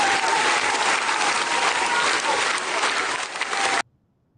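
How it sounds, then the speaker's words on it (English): Audience applause after the Jury Award for Best Narrative Feature is announced at the 42nd OUTshine Film Festival; steady, dense clapping from a crowd that stops abruptly near the end, leaving quiet. "our audience is very, very excited today. It's a lot of clapping."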